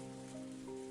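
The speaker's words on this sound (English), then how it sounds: "I didn't think it would rain so hard" Rain falls in the video game Higurashi, a faint steady patter on surfaces under a low sustained musical drone.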